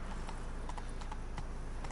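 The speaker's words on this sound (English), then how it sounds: "And now we ride the horse." Horse hooves clip-clopping while riding in The Witcher 3, a steady, even rhythm of quick hoofbeats over a constant low game hum, fairly quiet and with no talk.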